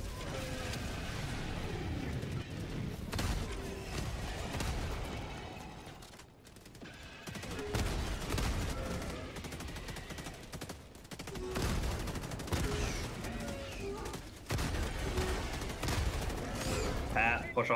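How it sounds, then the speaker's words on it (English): Helldivers 2 airstrike gun run called in danger close: sustained rapid gunfire and heavy impacts rattle through nearly the whole stretch, loud and dense, pausing briefly midway before resuming, with player voices talking over the battle. "An airstrike going out on the charger. Gun run, danger close."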